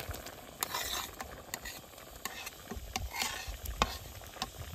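Banana-stem fish dropped into simmering dal in a pan and stirred, with soft bubbling under repeated scraping and clinking of a spoon against the pot, close and fairly quiet, no voices.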